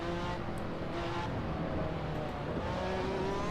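A race car engine drones steadily at high revs in the Assetto Corsa sim, a close, continuous tone running through top gear with slight pitch shifts and faint tire noise underneath.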